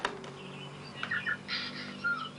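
Faint, scattered tui calls, short clear tonal notes and a few chirps, sound over a quiet background hum in a dawn chorus.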